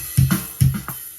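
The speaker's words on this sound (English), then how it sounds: "Now the kick sounds very different." Two deep, punchy GarageBand kick drum thumps about half a second apart, each with a short decay and no other sound.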